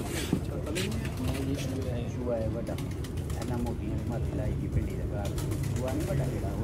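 Pigeons of the old Choohay breed coo repeatedly in soft, rolling phrases close by, over a steady background hum, with people talking faintly underneath.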